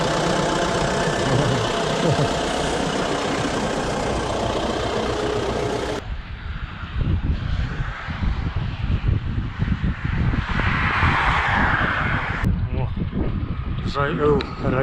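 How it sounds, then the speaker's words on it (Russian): A steady tractor engine rumbles and idles close by, with a shift in tone partway through as the vehicle's noise changes. "А вот на тракторе путешествие."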